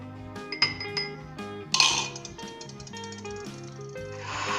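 A metal spoon clinks against a glass while stirring ginger tea with black pepper and fresh-squeezed lemon, giving several light, bright taps in a loose rhythm over soft background noise.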